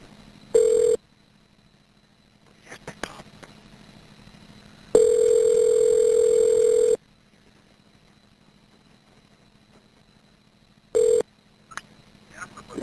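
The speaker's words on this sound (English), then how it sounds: "The number is now being dialed." A prison phone system dials an outgoing call, with loud steady tones starting and stopping, short beeps and faint clicks between them, near and clear against a quiet line.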